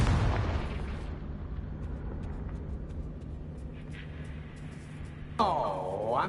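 A Confringo fire spell bursts in Hogwarts Legacy, opening with a loud, broad blast that decays into a low, steady rumble, followed by a second sharp burst near the end.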